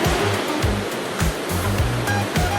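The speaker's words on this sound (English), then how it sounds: "Racing at 3 meters per second, cutting through 1 meter waves with ease." A small RC fishing boat races across one-meter sea waves, its hull slapping the water in rhythmic thumps amid loud, continuous surf and spray.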